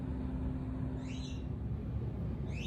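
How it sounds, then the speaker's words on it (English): Birds call outdoors in two brief, faint bursts of chirping over a steady low background rumble. "it's time for my birds to start chirping, so they may be interfering with this video"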